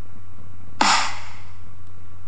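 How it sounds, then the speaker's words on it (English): A single snare drum sample triggered in the Audiotool online music app lands as one crisp, bright hit with a short noisy decay, alone over a faint steady hum. "so I'm just going to get a snare sound like this."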